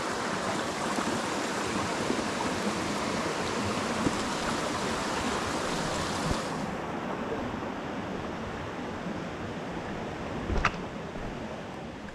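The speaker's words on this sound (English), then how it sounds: "Brook is what we're crossing over." A mountain brook flows beneath hikers crossing over it on a Vermont trail near Baker Peak, a steady close rushing of water throughout, with a few faint knocks and a brief clatter near the end.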